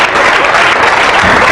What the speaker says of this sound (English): Married people, clap if you're married.